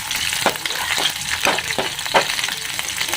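Spices tempering in hot oil as a chhonk, a steady loud crackling sizzle with sharper pops spaced through it, close and continuous with no talk.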